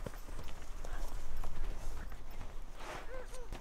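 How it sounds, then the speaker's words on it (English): Horses in snowy Lapland near Rovaniemi clop their hooves on the ground in uneven, close steps, with people talking over them and a brief higher animal call near the end. "Beautiful horses."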